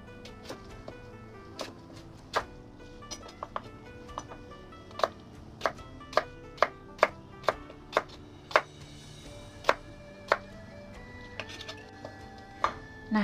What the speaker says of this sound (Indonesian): Lobak putih yang sudah dicuci bersih ya teman-teman, potong sesuai selera